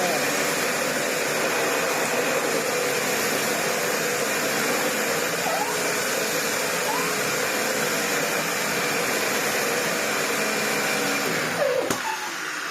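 A Dyson DC40 vacuum brushroll spins on its newly replaced motor, giving a steady, loud whirring hum that runs unbroken throughout, with a brief clunk near the end.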